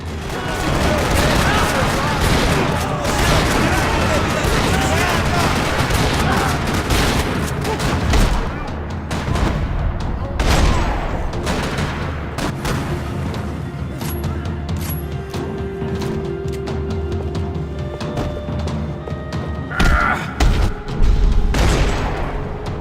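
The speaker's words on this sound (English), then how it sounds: "Another parking lot rattling with gunfire." Heavy gunfire fills a parking lot in the video game Max Payne 3, with rapid automatic bursts, booming shots and scattered single cracks over several seconds, voices occasionally audible beneath the shooting.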